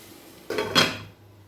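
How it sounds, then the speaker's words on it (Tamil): A lid set onto a pan of egg rice with omelette pieces cooking on the stove, two quick metallic clanks close together, the second louder and fading into quiet. "இப்போ மூடி போட்டு 1 நிமிஷம் வச்சிடலாம்."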